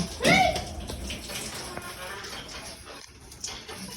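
Water runs from a tap fed by a pump in Doha, a close, continuous splashing rush with a short high vocal sound near the start and faint voices around.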